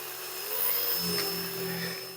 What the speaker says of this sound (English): I'll just give it just a light hone, and I've used some WD-40 as a lubricant.